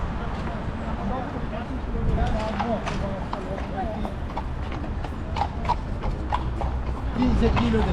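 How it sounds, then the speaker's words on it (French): Gendarmerie horses clip-clop along a road near Paris, a steady stream of hoof strikes heard amid background crowd and traffic noise, with people talking throughout. "Chevaux."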